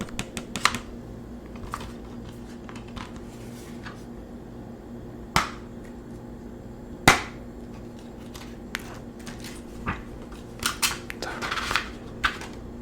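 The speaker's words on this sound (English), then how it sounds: "Thought the disc was flying around in there." A disc rattles inside a plastic DVD case, small clicks and rattles scattered irregularly over a quiet background, with a couple of sharper, louder knocks standing out.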